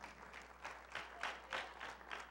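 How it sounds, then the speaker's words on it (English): Congregation at a church service clapping hands together, a quiet, moderately dense burst of applause that swells in several pulses over a couple of seconds with no voices. "give the Lord a hand clap"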